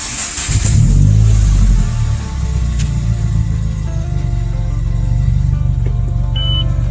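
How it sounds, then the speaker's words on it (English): The engine of a 2015+ Subaru WRX with a Cobb flex fuel ethanol sensor kit cranks and starts loud and close, then settles into a steady idle with a few faint beeps. "we're gonna start it up and just let the rest of the fuel go through the lines until the car makes a sad noise and dies out"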